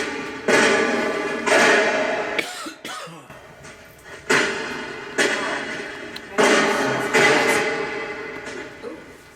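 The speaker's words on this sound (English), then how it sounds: "That sounded just like gunfire." Sharp, sudden gunfire-like bangs from a spirit box come in an irregular series, each followed by a decaying burst of static-like noise, loud and close.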